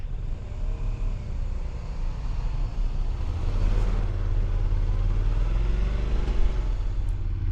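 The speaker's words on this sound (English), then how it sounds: "This looks like there's tour buses coming up here." Tour buses drive up a volcano road in the Canary Islands, a low heavy engine rumble with rising rev sweeps, fairly close and steady, with no talk.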